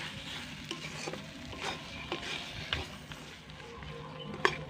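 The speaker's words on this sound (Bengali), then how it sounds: "সেটাই 1 চামচের মতো দিয়ে এইভাবে মিশিয়ে নিচ্ছি" Ground cinnamon, cardamom and clove spice being stirred into sweet pumpkin cooking with fish head in a pan: a spoon scrapes and knocks in irregular strokes over a low, steady sizzle, close and fairly quiet.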